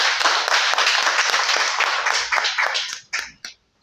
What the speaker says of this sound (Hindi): आपकी तालियों में डॉक्टर अर्शद रोवी साहब.